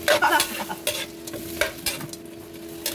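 Shrimp fry in butter in a pan, a close, steady sizzle broken by several quick stirring scrapes.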